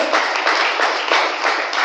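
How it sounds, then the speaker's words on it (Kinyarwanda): A church congregation claps together during a sermon, a dense, steady wash of many hands that holds at an even, fairly loud level throughout, with no voices over it. "Komera Imana amashyi mu izina rya Yesu."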